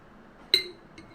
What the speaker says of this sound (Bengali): এখন আমি এই শুকনো বয়মটার মধ্যে বিসমিল্লাহ করে আচারটা দিয়ে দিব।